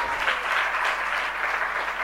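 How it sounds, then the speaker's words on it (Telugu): A church congregation claps together to glorify God, a dense, even burst of applause lasting about two seconds without a break. "ఒకసారి చప్పట్లు కొట్టి దేవుని మహిమపరుద్దాం."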